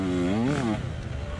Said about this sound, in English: My bike's running weird.